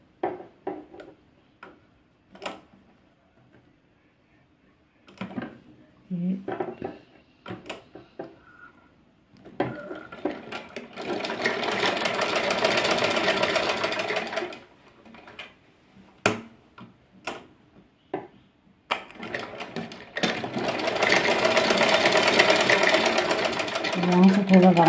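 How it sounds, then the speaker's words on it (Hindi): Electric sewing machine stitching fabric for a small doll dress, running in two long steady whirring bursts between short ticks and handling clicks, with someone talking during the pauses. "अब हमने यहाँ से सिलाई लगानी है।"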